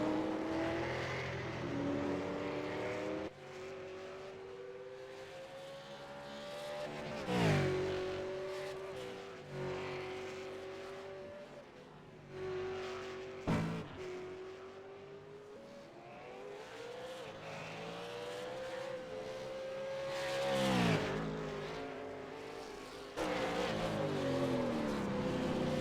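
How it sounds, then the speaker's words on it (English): A race car laps a track lined with close walls, its engine whining and revving as it rises and falls. It swoops past repeatedly with shifting pitch and occasional tyre squeal, and no talk is heard. "taking the car through the paces and making sure not to do anything too silly with the walls being quite close in proximity"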